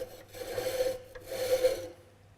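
A flat bevel is ground against a Tormek diamond wheel with an MB-100 multi base, making two long, steady rasping strokes close up and a faint motor hum underneath.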